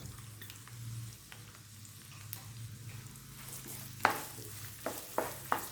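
Chopped onions sizzle softly in a hot pan with a low frying hiss, while a utensil stirs and scrapes a few times toward the end.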